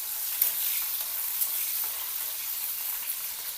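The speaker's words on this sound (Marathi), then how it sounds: "मिरच्या छान परतवायच्या।" Green chillies with cumin sautéing in hot oil in a kadai, a continuous close sizzle with faint stirring scrapes and occasional pops, no voices.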